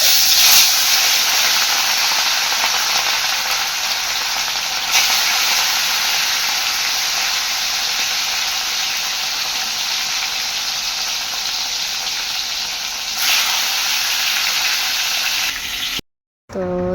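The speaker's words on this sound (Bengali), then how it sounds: "এবার আমার মাছ ভাজা হয়ে যাচ্ছে, মাছ ভাজা হয়ে গেছে" Mirza fish frying in oil sizzle and hiss loudly and steadily for the whole stretch before cutting off abruptly just at the end.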